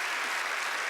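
Television studio audience applauding Penn and Teller on the magic show Fool Us. A short burst of dense, even clapping, loud and close, with no talk.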